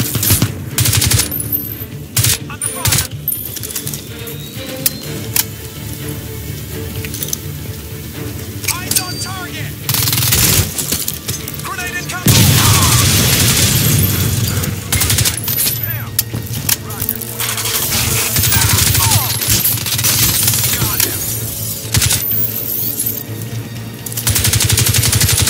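Automatic gunfire bursts in the video game Crysis 2, loud and dense throughout, growing heavier and more continuous in the second half, with voices talking over the shooting.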